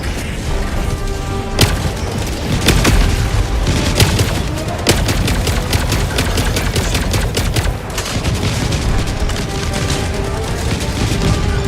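Heavy booms and rapid bursts of gunfire from a Helldivers 2 battle, with a grenade blast among dense, loud, continuous explosions and shots layered throughout.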